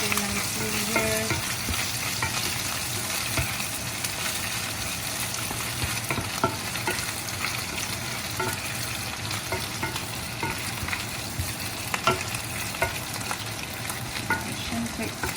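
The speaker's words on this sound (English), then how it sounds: "get back to my bacon here, just cooking nicely here." Bacon frying in a pan for a spaghetti carbonara, with a steady close sizzle and crackle and occasional stirring scrapes, heard alone without talk.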